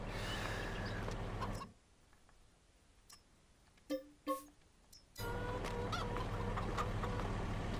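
Chickens in the video game Farming Simulator 22 give a few short clucks, heard during a quieter stretch between loud, steady stretches of engine-like background noise.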